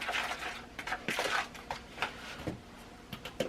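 A spoon stirs egg and vanilla into cookie dough in a bowl, making soft repeated scraping and light clinks in an irregular rhythm at a quiet, close level.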